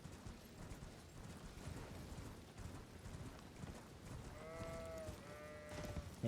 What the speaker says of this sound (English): Yes, hello sheep.